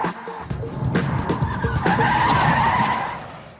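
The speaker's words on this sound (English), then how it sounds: "a 180-degree skidding forward turn" A car skids through a 180-degree handbrake turn, its tires squealing in a rising, sustained screech over rumbling engine and gravelly road noise, loud and close for a few seconds before easing off.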